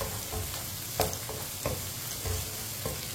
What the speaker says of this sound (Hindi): प्याज को भी 2 मिनट के लिए पका लेंगे